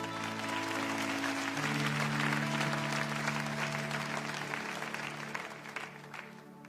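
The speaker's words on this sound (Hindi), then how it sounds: "उनका स्वागत करेंगे हम तालियों के साथ।" Congregation clapping in a church service to welcome first-time visitors, sustained applause with a sustained musical tone or keyboard underneath, gradually thinning toward the end.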